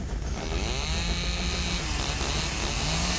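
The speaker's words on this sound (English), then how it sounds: "Why am I hearing a chainsaw?" A dense, loud buzzing drone with a chainsaw-like rasp runs steadily through the whole stretch at the scene of a deer on a railway track, with no voices over it.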